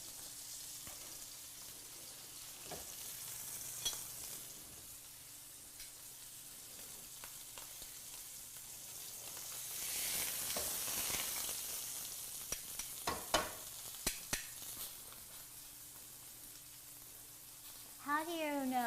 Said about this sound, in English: You want to hear that sizzle, because that's what's going to give you that good char